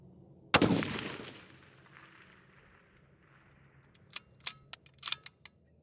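A long-range precision rifle fires one sharp, loud shot at an outdoor range, with a long decaying echo, followed a few seconds later by metallic clinks and clicks of handling.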